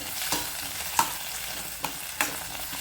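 Chillies and curd frying in a pan for a Kannada-style chilli curds fry, a soft steady sizzle under a few light stirring scrapes of a spoon against the pan.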